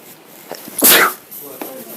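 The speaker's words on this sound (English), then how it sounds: "I'm about to sneeze" A single loud human sneeze bursts out close to the microphone after a brief quiet intake, standing alone against faint room noise.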